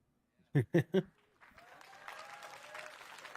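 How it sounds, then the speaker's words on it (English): Faint applause from an audience at the Meta Connect 2023 presentation, a soft, diffuse patter that rises after three short vocal bursts and continues to the end. "Chris, you should be clapping."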